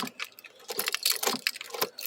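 Car keys jangle and clink in quick, irregular bursts close by, with small metallic rattles, as the key is pulled out and put into the ignition.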